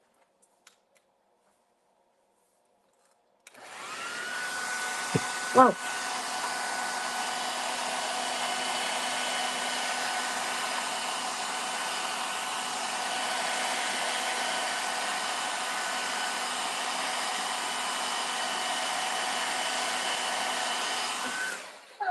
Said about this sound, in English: I still have not brought up my heat tool, so it's going to be loud. So I apologize for those of you guys that have a hard time with my blow dryer.